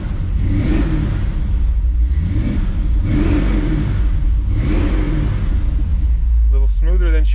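A 1957 car engine with a Holley carburetor runs close and loud, its deep rumble rising in three or four revving surges. A short squeal comes at the end.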